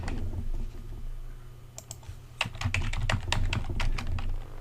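Someone types a comment on a computer keyboard: a quick, uneven run of close, crisp key clicks that grows busier after a brief pause, with no voices.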